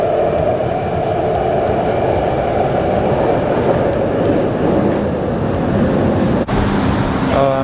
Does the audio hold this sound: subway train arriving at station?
yes